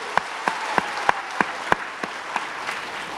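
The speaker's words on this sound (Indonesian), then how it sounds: "tepuk tangan silakan dulu Bapak Ibu" A seminar audience claps in a slow, sparse rhythm, about ten separate sharp hand claps spaced roughly a third of a second apart, fairly close and moderately loud, with no talking over them.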